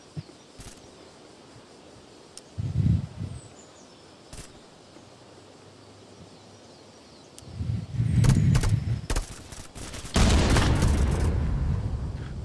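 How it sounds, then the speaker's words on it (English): Several heavy booms from a grenade-type explosion in a VR shooter game, with a thudding burst, a larger blast and a rumbling roar near the end, among scattered sharp shot-like clicks and no talking. "Killed by a grenade."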